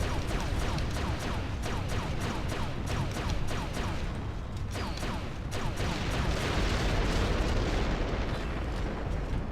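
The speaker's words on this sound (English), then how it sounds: "Blast an air missile." Air missile fire in the Descent 3 PC game: a dense, loud wall of rumbling explosion noise with a rapid train of sharp blasts punched through it, steady and without speech.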